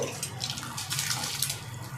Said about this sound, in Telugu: రైస్ ఉడుకుతున్న నీళ్ళల్లో రైస్ వచ్చేసి యాడ్ చేద్దాము